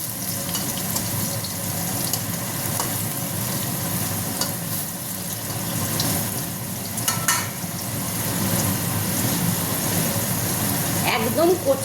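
Thin slices of young ash gourd frying in oil, giving a steady, dense sizzle throughout with light spatter and a few clinks of stirring, growing a little busier near the end.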